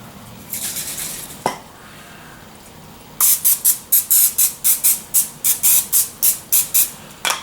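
Cooking spray coats a pizza pan in one longer hiss, then a steady run of about a dozen short, sharp spray bursts close to the microphone, with no talking.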